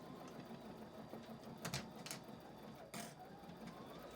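A sewing machine stitches through layered quilt fabric, its steady mechanical whir running throughout with a few brief louder clacks, faint and close.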